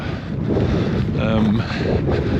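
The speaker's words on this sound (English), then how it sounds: "It's definitely got worse since I set off, windier and the rain now." Strong wind buffets the microphone on a rainy Yorkshire coastal cliff walk, a continuous rough roar with a brief voice heard partway through.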